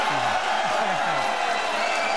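Crowd at a Muay Thai fight roars in a steady, dense wash of cheering and shouts, loud and continuous throughout, with a commentator's voice faintly audible underneath.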